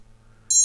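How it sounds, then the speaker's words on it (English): A single short, high electronic beep from a quadcopter drone's ESC buzzer sounds briefly after a moment of near silence with a low hum underneath. "you can actually hear the ESCs beep, as they will in the field if you lose your quad"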